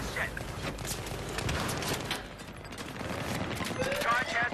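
AEK rifle fire in Battlefield 3 on Operation Metro during a Rush attack: rapid, dense automatic bursts mixed with game noise and a busy, steady din throughout.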